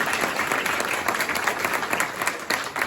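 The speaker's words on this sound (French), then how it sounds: "Je prie qu'on lui donne quelques applaudissements." A crowd at a Christmas celebration applauds steadily and fairly close, dense clapping continuing for the whole few seconds.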